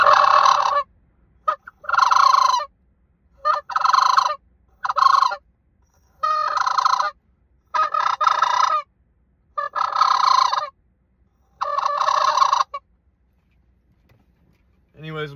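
A person imitates sandhill crane calls by voice, giving about eight loud, close rolling, trumpeting bursts in a steady rhythm, each separated by a short silence.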